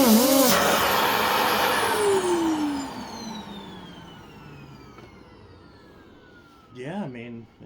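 A Fantom Lightning vacuum cleaner with a worn HEPA filter and a deteriorated gasket runs with a loud, high motor whine that gradually falls in pitch and winds down. Brief voice-like sounds come near the end.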